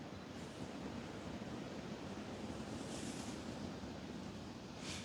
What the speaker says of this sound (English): the wind is making it very problematic as this camera keeps shaking crazily